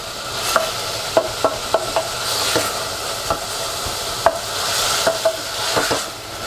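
Onions sizzle in a pan for cashew nut curry, a soft continuous hiss broken by scattered sharp clicks and scrapes of stirring, close and without speech.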